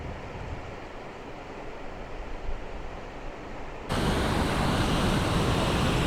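Water cascades rush after heavy rain along a walking route past a private house, making a continuous broadband roar that jumps abruptly louder partway through, as if closer to the flow; no one speaks.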